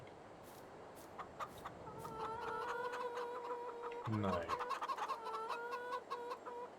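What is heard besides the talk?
chickens clucking in farming video game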